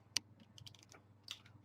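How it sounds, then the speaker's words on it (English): Playing cards are drawn one by one from a freshly shuffled deck, giving sparse, crisp little snaps and taps close to the microphone with quiet gaps between them. "I am taking 3 cards from the deck"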